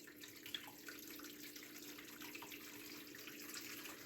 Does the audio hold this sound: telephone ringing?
no